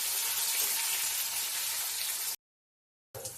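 Onion, chilli and tomato frying in a pan, a loud steady hiss and crackle of sizzling oil that cuts out abruptly near the end, then returns briefly.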